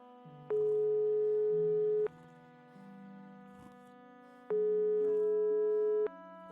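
A phone rings unanswered in the Broken Sword 5: The Serpent's Curse video game, with two loud electronic ring bursts about four seconds apart and quiet background music in between.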